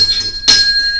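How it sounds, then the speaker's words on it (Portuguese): A notification bell effect rings once, a short bright chime that sustains with a clear ringing tone, loud and alone over a faint background. "ative o famoso sino da notificação"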